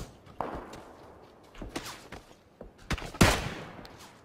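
Gunfire in the battle royale game PlayerUnknown's Battlegrounds: a few scattered sharp shots and thumps, ending in a louder close burst over quiet ambient background.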